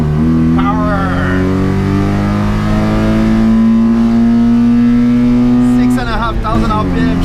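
A 1980 Mitsubishi Minica engine screams at high revs, loud and close, holding a rising whine before dropping sharply as it shifts into third and climbs again.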